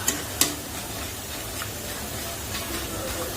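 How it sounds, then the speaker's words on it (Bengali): Sweet boondi frying in hot oil, giving a steady soft sizzle with a couple of sharp clinks from a utensil early on and faint stirring sounds. "এগুলো আমি খুব বেশি লাল করে ভাজবো না"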